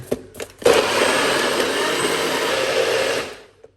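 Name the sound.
blender blending drink ingredients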